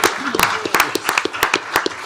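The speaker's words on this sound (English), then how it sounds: "a huge round of applause?" A small room of people at a Tarrant County Commissioners Court meeting claps for student scholars and athletes. It is a short, loose burst of nearby handclaps, with voices faintly under it.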